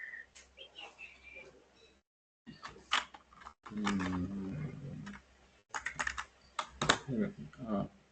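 Typing on a computer keyboard with clicky key presses, including a press of the enter key, comes in short bursts and brief flurries, interrupted by short pauses and mixed with a speaking voice.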